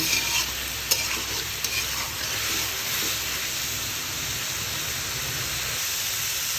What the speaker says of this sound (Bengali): সবজি খুব ভালো করে ভেজে নিয়েছি